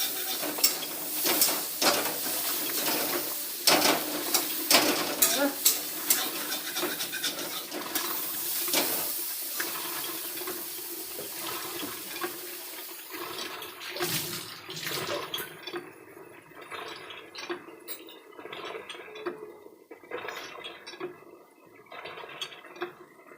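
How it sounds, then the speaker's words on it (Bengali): A curry cooks in a pan: water is poured in, then fish and lentil dumplings are added, bringing splashing and pouring sounds, stirring clatter and a bubbling sizzle that settles into quieter simmering. "বাবার তরকারিতে জল দিয়ে দিয়েছি, আর এই তরকারিতে মাছ আর বড়ি দিয়ে দিচ্ছে।"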